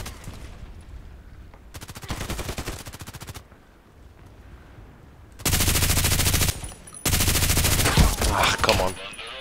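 Rapid automatic gunfire in the online shooter Contract Wars, where an RPK-type light machine gun fires in several long, loud bursts separated by short pauses, the later bursts heavier and closer.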